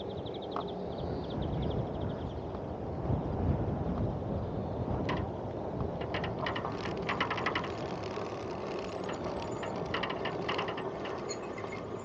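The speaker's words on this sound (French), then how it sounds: "Je pense que vous l'entendez, il y a à nouveau du vent." Wind blowing outdoors near a campervan site, a continuous rumbling buffet on the microphone with scattered rattling and clicking, no talking.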